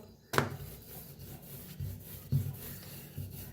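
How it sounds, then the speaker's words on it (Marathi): A rolling pin rubs back and forth over an oiled ball of dough, making soft, quiet rhythmic rolling strokes that repeat about every second, close and without talking. "खाली तेल लावायचं आणि लाटून घेऊया. मस्त असं लाटायचं बघा."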